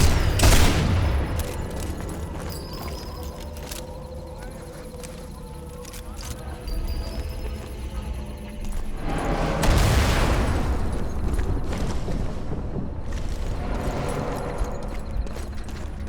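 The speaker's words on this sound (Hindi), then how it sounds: "ग्रेनेड इसने फेंक दिया" Sniper Elite 4 combat with a thrown grenade: a loud booming blast at the start, a rumbling stretch of distant gunfire, then a second heavy explosion midway with a lingering rumble.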